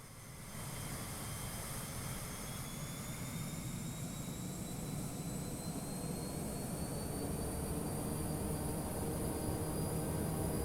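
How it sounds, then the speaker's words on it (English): Simulated Lear 35 jet engines in the Prepar3D flight simulator drone steadily, with a loud broadband roar and a thin whine that rises slowly in pitch as power builds for departure. "I'm going to turn up the engine sounds just for departure."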